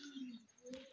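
Pigeons on a rooftop cooing softly, a couple of short low warbling calls, faint and close.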